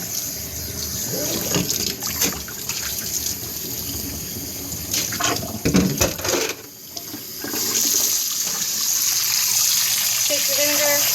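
Tap water runs steadily over fresh spinach being rinsed at a kitchen sink, a close, continuous splashing with a few louder gushes as the leaves are moved under the stream.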